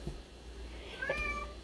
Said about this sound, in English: sorry for the crying cat